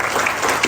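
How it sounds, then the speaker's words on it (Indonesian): A church congregation at a Sunday service claps together in a short, dense burst of applause, steady and fairly close, with no voices over it. "Mari kita tepuk tangan untuk Tuhan."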